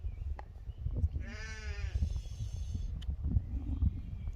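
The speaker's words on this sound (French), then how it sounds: "Qu'est-ce qu'il y a les moutons?" A single sheep gives one wavering bleat, clear and fairly close, lasting under two seconds against a quiet outdoor background with faint low rumble.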